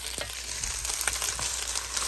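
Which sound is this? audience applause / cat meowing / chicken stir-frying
chicken stir-frying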